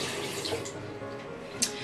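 Tap water runs steadily into a sink for wetting fingers before styling hair, a soft continuous close splash with a brief brighter spatter near the end.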